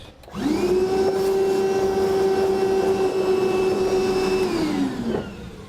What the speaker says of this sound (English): Next we'll vacuum up our shavings.